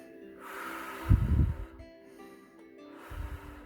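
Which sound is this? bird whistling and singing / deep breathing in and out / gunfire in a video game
deep breathing in and out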